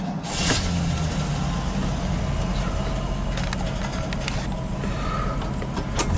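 Continuous road noise from a 1961 Lincoln Continental Convertible with a three-speed automatic on a test drive, a steady low engine and tire rumble at even loudness throughout, with no clear talk over it.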